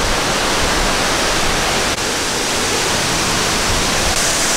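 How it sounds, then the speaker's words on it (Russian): Poceta de Cristal waterfall in Cuba rushes loudly and close by, a dense, unbroken roar of falling water that fills the whole stretch without pause. "И вот он опять, наш водопад,"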